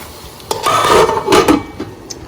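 A lid goes onto a cooking pot of chicken biryani, giving a couple of close metallic clanks with a brief scrape and rattle between them.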